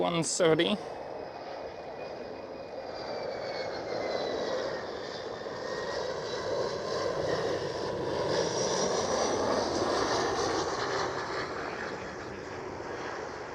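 An Eastern Airways Embraer E170 at Schiphol produces a moderate, steady engine roar at a distance, with a whine rising and falling, after a short sharp sound at the start.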